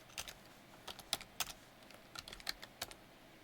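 Fingers type on an international computer keyboard, sparse irregular clicks and keystrokes up close but quiet, with pauses between short bursts.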